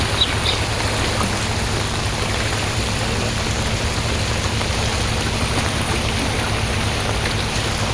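Light drizzling rain falls near a steel footbridge in a quiet, deserted rural spot, a constant even hiss of fine rain that stays unbroken throughout, with no voices.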